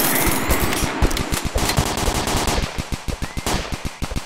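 Rapid automatic gunfire fills a multiplayer match of the video game Dude Theft Wars, loud close bursts of sharp shots in a quick steady rhythm, briefly thicker and more chaotic before settling into evenly spaced cracks, with no voices.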